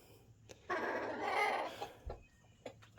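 Hens in nesting boxes give a drawn-out, nasal clucking call, close by, with a few softer clucks and small knocks after it in a quiet homestead coop.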